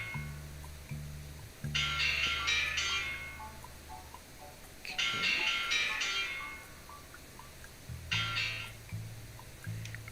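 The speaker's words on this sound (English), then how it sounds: "I'm just letting my phone ring." A phone ringtone plays in repeated bursts of bright electronic melody, separated by short pauses, fairly close with background rustling and low hum.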